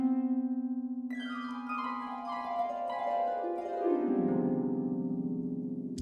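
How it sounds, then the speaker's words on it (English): A harp from a sampled library sweeps a rising glissando of plucked strings near the start, then more rippling runs, over a sustained low tone and a piano figure, with no talking. "the harp does a glissando here"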